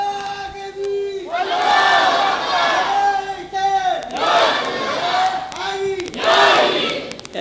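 A large crowd at a Milad-un-Nabi religious gathering roars religious slogans in three loud, sustained chanting bursts, each following a lone voice that leads the call.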